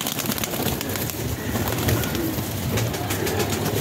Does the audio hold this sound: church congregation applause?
no